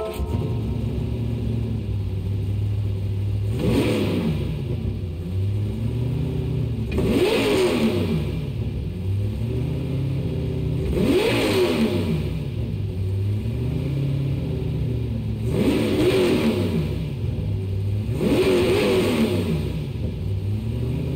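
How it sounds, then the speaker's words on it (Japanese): A modified Lexus LC500 in Gran Turismo 7, tuned to 8,000cc and 1,250 horsepower, idles with a deep steady rumble and then revs sharply about five times, each blip rising and falling back at a regular interval, loud and close. "LC500 のエンジン音とは思えませんね"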